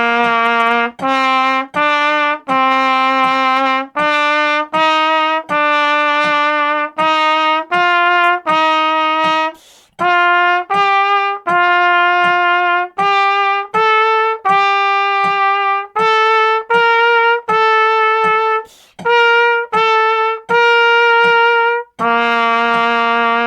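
A trumpet plays a scale study that starts on low C, moving in half notes and quarter notes up and back down. The notes are clear, sustained and evenly paced, with short breaths between phrases and no talking.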